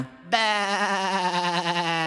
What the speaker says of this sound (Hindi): नहीं बार्टोलीटो, वो एक भेड़ है।